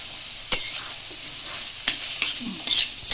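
Cabbage fries in a pan with paneer added, giving a constant hiss, while a few sharp spatula strokes and clicks stand out at intervals.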